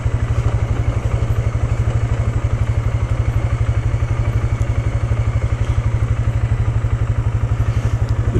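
A Polaris Sportsman 570 ATV engine thrums at low revs while descending a steep rocky gravel slope, a loud, close, rapid and steady pulsing chug with light clatter throughout.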